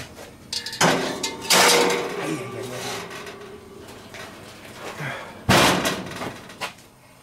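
A heavy cast-iron Dutch oven pot set down on a grill, giving two loud, close metallic clanks with some lighter rattling between them, while someone talks.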